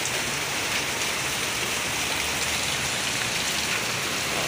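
Heavy rain pours on a road in Tagaytay during a storm, a dense, steady, loud hiss of drops on surfaces lasting the whole time with no voices.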